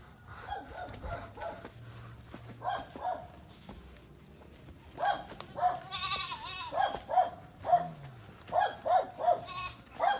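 Goats bleating repeatedly at close range, a chorus of wavering cries in uneven rhythm, with a few other sounds mixed in.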